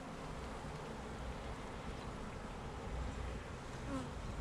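A low, continuous hum of worker bees crawling on hive frames, a steady close buzz with no breaks and no talk.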